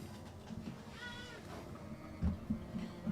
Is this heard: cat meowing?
yes